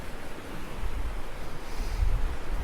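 Wind gusts buffet the microphone in low rumbling swells over a soft, steady background wash, in a river valley.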